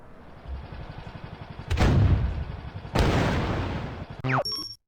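Tank cannon fire in the Flash game Henry Stickmin: Fleeing the Complex: two heavy booming blasts about a second apart over a rumbling game soundtrack, followed by a rising whistle and a short electronic jingle.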